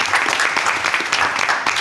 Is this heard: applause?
yes